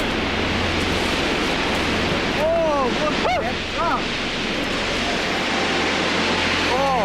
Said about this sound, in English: Then, finally, in the distance, they hear the river falling.